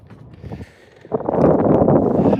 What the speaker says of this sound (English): I don't know if you can hear that wind or not